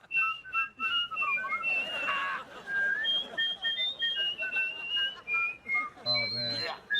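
A person whistles a wavering, high melodic tune in a Scottish sketch-comedy scene, with steady sustained notes and slides over quiet background voices and a brief burst of noise near the end.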